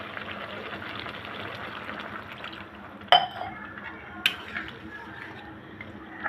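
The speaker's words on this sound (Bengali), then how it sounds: "এখন দিয়ে দিব সামান্য একটু ঝোল।" Broth pours into a pan of shrimp curry with jackfruit seeds, a close liquid gurgle and splash over a cooking hiss, marked by a couple of sharp clinks from the utensil.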